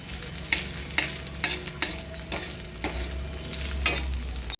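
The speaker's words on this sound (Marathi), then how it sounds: "त्याच तेलामध्ये चिकन भाजून घ्यायचं।" Chicken fries in oil under a continuous sizzle, broken by a regular series of scraping stirs of a spoon against the pan, each roughly half a second apart, heard up close.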